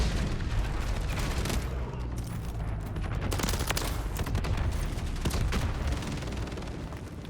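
SVA 545 rifle fire in Modern Warfare 3 crackles in dense, overlapping bursts of loud, close shots, mixed with booms and distant battle noise throughout.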